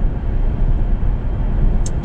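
Steady broadband road and wind roar of an electric car with a cold-soaked battery cruising at limited highway speed, a constant low rumble with no engine note.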